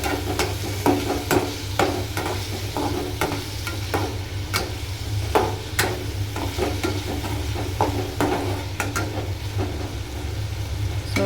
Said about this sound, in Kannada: ಇವಾಗ ಇದಕ್ಕೆ ನಾನು ಟೊಮೆಟೊ ಹಾಕಿದ್ದೀನಿ. ಟೊಮೆಟೊನು ಚೆನ್ನಾಗಿ ಫ್ರೈ ಮಾಡಬೇಕು.